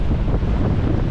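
Strong outdoor wind of force 4 to 5 on the Beaufort scale, like a Cycladic meltemi, roaring steadily and buffeting the microphone with dense low rumble, heard alone.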